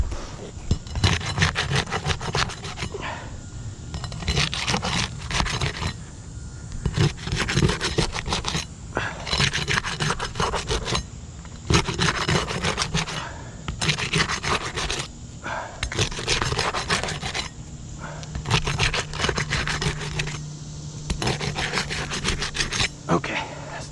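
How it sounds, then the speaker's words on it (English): Tar strips under asphalt roof shingles being broken loose and nails pried out, a continuous rough scraping and rubbing in repeated bursts with brief pauses, fairly close and loud. "the first thing I have to do is break these tar strips in these courses above and begin to remove the nails"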